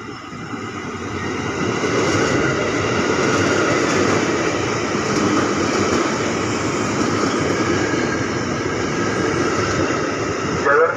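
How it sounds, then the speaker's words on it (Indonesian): A KRL commuter train rolls through Manggarai station, a steady loud rumble and rush sustained for several seconds, close by and dominating the platform ambience. "hati-hati kereta api melintas langsung"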